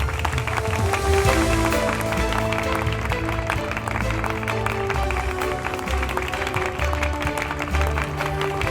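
An audience applauds and cheers for a newly named company CEO, a steady wash of clapping that stays loud throughout, with music playing underneath.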